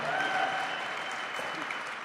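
A conference audience applauds steadily, a dense wash of clapping hands from a large crowd that holds at an even level throughout.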